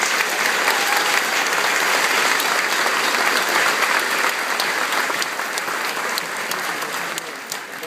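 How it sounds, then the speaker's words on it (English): Loud, sustained crowd applause at a military ceremony honoring soldiers' families and friends, dense continuous clapping that holds steady, then slowly tapers toward the end. "Please, a round of applause for our families and friends."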